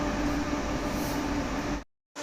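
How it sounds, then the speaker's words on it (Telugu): The 20805 AP Express passenger train, running from Visakhapatnam to New Delhi, gives a loud, steady rail rumble and clatter heard close up, which cuts off abruptly near the end. "ఢిల్లీకి నేను ట్రావెల్ చేసే ట్రైన్ వచ్చి 20805 ఏపీ ఆంధ్రప్రదేశ్ ఎక్స్ప్రెస్"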